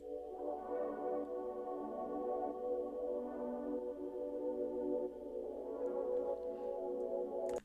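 Layered synth keys play the same chords as the piano part, with the low end trimmed, in a 90s R&B trap-soul beat: soft, sustained chords that swell and shift, quiet and continuous with no voices.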